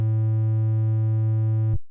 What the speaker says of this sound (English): The triangle wave sounds like this.